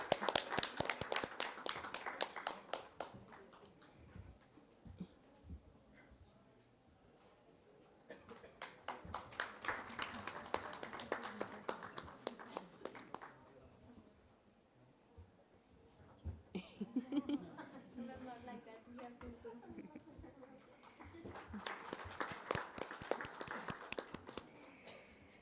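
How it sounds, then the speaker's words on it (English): Rounds of clapping come from a conference audience after a panel session on agricultural AI, arriving in three bursts separated by quieter gaps with some murmuring, moderately near and fairly soft. "A huge round of applause."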